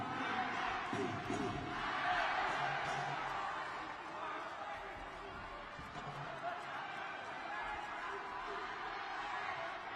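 Steady arena crowd noise at an Olympic boxing qualifier bout, a broad continuous roar with scattered shouts under a commentator's voice.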